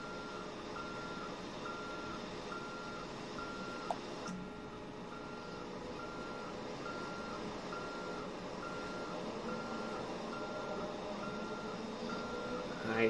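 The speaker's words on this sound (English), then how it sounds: "we're just gonna back this tow truck up in here" Tow truck reversing in GTA 5, a steady run of electronic backup beeps repeating at an even pace over a constant low engine hum, with no talking.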